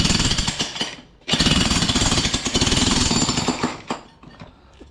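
A Hitachi jackhammer runs loud and close, its rapid pounding broken by a short pause before it resumes; no speech.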